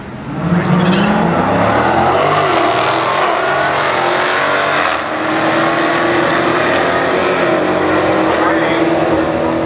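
Two Dodge Challengers with Hemi engines and the Scat Pack option launch side by side in a drag race, a loud continuous V8 roar rising in pitch as they accelerate, heard up close.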